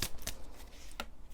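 Tarot deck being shuffled by hand at close range, a soft flurry of card riffles with a few sharper flicks, quiet and brief.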